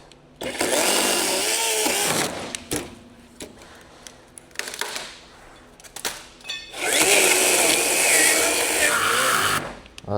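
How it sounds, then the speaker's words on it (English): A chainsaw roars in loud bursts, revving and cutting, with short pauses between runs. "This is Courtney's chainsaw."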